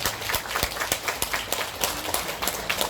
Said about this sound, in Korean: 내빈들께 네 다시 한번 큰 박수 보내주시기 바랍니다